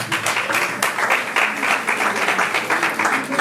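A room of guests at a civil wedding bursts into steady applause to welcome a guest, dense clapping holding at an even level for the whole stretch with no voices over it.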